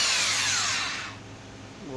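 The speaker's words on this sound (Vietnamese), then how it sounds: "Nghe, nghe tiếng búa chưa? Búa gõ quá quá phê luôn." A Hitachi DH 18VB rotary hammer drill runs loud and close in a bright, high-pitched burst, then winds down over about a second with no talking.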